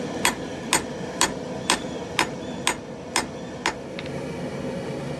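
Hammer blows on hot steel during a forge weld of scrap-pile Damascus, eight sharp evenly spaced ringing strikes about half a second apart, then a fainter tap, close and alone over a low forge roar.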